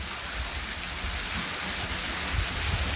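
A waterfall pours beside a tunnel, giving a steady broad rushing hiss at moderate distance with no break.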